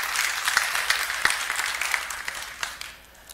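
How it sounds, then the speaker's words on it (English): Audience at a tech summit applauding the event's speakers, a steady patter of many hands with a few sharper individual claps standing out, fading toward the end. "I welcome an applause for our valued speakers that have traveled here from far."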